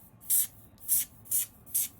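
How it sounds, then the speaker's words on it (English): Four quick, evenly spaced hisses from a handheld spray bottle misting water onto a silk top hat, close and crisp against a quiet room. "is we're going to spray the water onto the hat."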